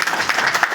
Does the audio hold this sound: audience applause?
yes